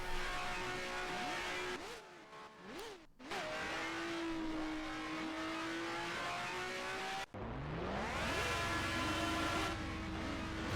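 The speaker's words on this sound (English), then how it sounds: "I can hear other cars." Several race car engines roar and rev in a video game, pitches climbing and falling as gears shift, loud and continuous with no talking.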